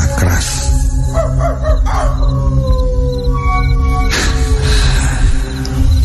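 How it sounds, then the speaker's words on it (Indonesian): A dog howls loudly in a long drawn-out wail, with a few bark-like yelps before it, set against a continuous hum as a sound effect in a night-time radio horror drama. "Anjing yang berada di dekat rumahku mulai menggonggong sangat keras."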